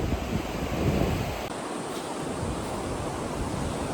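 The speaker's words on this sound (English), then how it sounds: "We're just on the beach here. Pretty windy." Steady wind and rolling surf on a seaweed-strewn beach beside the Daintree Rainforest, a continuous broadband roar with heavy low buffeting from gusts across the microphone in the first second and a half, then a more even wash.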